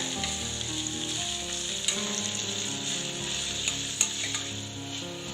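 Onions sautéing in a hot pan for an egg gravy, a steady close sizzle and crackle with occasional soft stirring taps, no voices.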